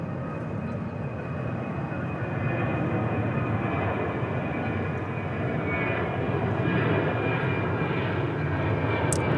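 An airliner departs at DFW airport, its engine roar building steadily from a distance and swelling louder toward the end, with no voices over it.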